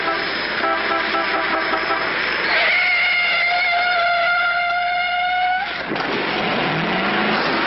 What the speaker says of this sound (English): Pretty reckless driving.